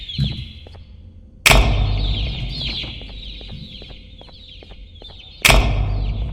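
Opila bird from the video game Garten of Banban 2 clucking repeatedly in short, close, loud calls, with two sharp louder bursts standing out.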